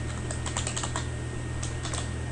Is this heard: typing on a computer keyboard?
yes